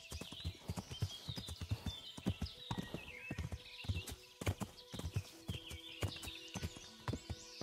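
Horse hooves clip-clop in a steady walking rhythm while riding in the medieval video game Kingdom Come: Deliverance, close and clear, with a brief whinny and no talking over it.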